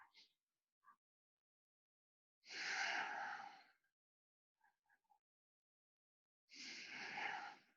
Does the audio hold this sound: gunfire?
no